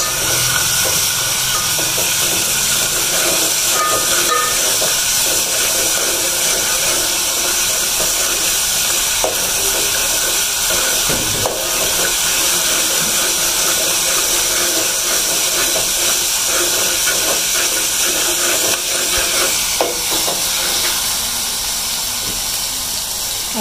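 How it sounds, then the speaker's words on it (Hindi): Ginger garlic paste sizzles as it fries in hot oil, a loud continuous hissing crackle with scattered pops that holds steady throughout. "अदरक लहसुन हमारा भून गए"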